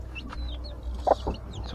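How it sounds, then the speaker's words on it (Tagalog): Chickens cluck and peep close by in a backyard coop, with newly hatched chicks among them. The short calls come in a steady scatter, with one louder squawk in the middle and no talk. "At dito naman tayo sa bagong sisiw mga kabisdak."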